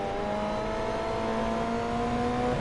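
A Formula 1 race car engine in F1 23 drones steadily at high revs for a few seconds, a loud continuous whine with slowly shifting pitch and no talk.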